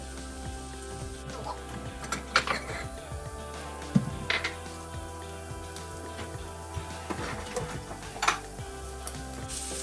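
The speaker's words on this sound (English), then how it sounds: "I'm just searing them like maybe like 3 to 4 minutes each side, not even" Shrimp searing in a single pan alongside yellow rice, giving a steady soft sizzle with occasional sharper pops and utensil clicks, close and moderately quiet throughout.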